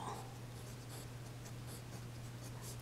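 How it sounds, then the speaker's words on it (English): A pen with little ink left scratches across paper in soft, steady strokes, quiet and close with a low mains hum underneath and no talking. "Yes, let me continue to write."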